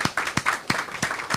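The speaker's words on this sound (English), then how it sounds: "Please give them a round of applause once more." Audience at a press conference clapping in a steady round of applause, a close, moderately loud patter of many hands with no talk over it.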